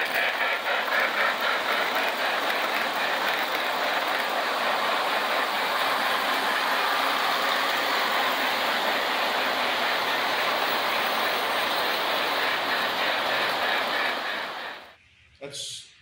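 A Norfolk Southern train rumbles past a historic railroad depot, a loud, continuous roar of wheels and engine that holds steady, then cuts off abruptly near the end, followed by a brief voice.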